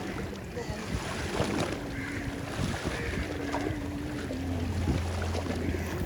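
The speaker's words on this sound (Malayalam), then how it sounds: "ഹൗസ് ബോട്ട് പോയി." A houseboat on the backwaters at Kumarakom moves off across the water, its low engine drone steady and distant beneath wind buffeting the microphone and faint lapping water, with no talking.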